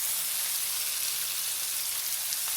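Fajita meat fries in a skillet with a dense, even hiss and faint crackle that holds steady throughout, close and moderately loud, with no voices.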